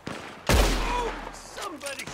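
A loud burst of rifle gunfire crashes out in the Red Dead Redemption 2 game, with a heavy blast followed by a decaying rumble and a few sharper shots trailing after it.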